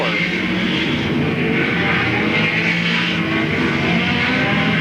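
Late model race cars roar around Louisville Motor Speedway in 1995 during an oval-track race. The engines drone loud, dense and continuous, with no break, and no voices are heard.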